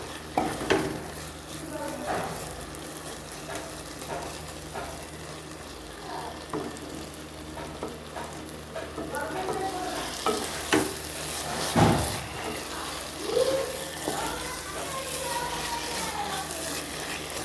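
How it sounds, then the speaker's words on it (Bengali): Rice with grated coconut is stirred in a pan, with scraping and rustling strokes of the spoon at irregular intervals, occasional clinks, and a faint sizzle underneath, close but fairly quiet, with no speech. "আর অল্প অল্প করে নাড়াচাড়া করছি। এর মধ্যে কুচানো নারকেল দিয়েছি।"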